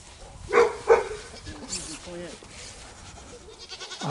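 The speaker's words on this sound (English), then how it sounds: "Oh, that dog." Out among farm animals including cows and chickens, a dog gives two sharp barks up close, then softer whimpering whines, while people talk nearby.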